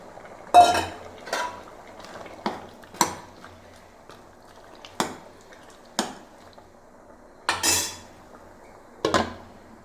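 Drumstick and okra pieces tipped into a pot of sadya sambar and stirred, giving a string of sharp metallic clanks and scrapes of a spoon against the vessel, spaced a second or so apart, close and clear with no talking.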